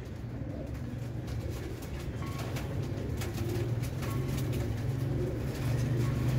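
Chandar khani pigeons cooing in a low, continuous rolling drone, close by and steady throughout, with no voices.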